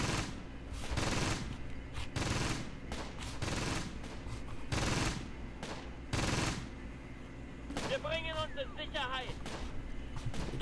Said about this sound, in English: There's grenades going on outside, grenades inside.